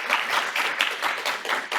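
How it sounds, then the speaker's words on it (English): A conversation-event audience applauds a guest named Brittany, a steady wash of clapping from a crowd, moderately loud and even throughout, with no voices over it. "Let's give Brittany a round of applause."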